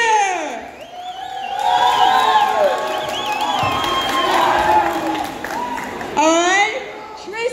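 A crowd of children at a school rap battle cheers and shouts loudly for several seconds, then dips briefly before a fresh burst of yelling near the end.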